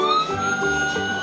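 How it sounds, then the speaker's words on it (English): A Paw Patrol toy police car plays an electronic siren, a loud, close wailing tone with steady pitch sweeps over a short burst, no talking. "That's Chase's police car."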